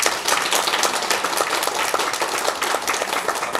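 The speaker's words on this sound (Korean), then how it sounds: "우리 하나님께 영광의 박수를 다 돌려드립니다" A gathered audience of teachers at a church retreat claps together, a dense, even burst of applause lasting a few seconds with no talking over it.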